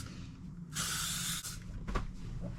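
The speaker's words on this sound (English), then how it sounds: "Spray tons of hairspray." A single sustained hiss of an aerosol spray lasting under a second, followed by a faint clatter and soft room noise.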